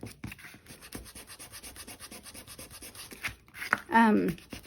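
Wooden fall wreath sign being distressed by sanding, a soft rhythmic rubbing of repeated short strokes, close and quiet, with a person speaking briefly near the end.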